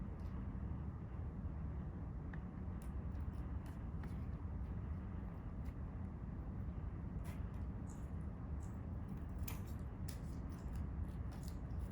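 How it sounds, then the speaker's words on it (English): Scissors cut a small V notch into the end of a craft book cover, giving several faint, quick snips spread over a steady low background rumble. "I'm just going to cut a little V at the end just so it can fold into the bottom of the book cover"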